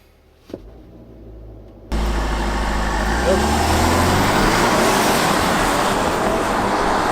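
An Audi Q5 idles quietly before a brake-torque launch, then bursts into a loud, sustained engine roar under hard acceleration that holds for the rest of the run.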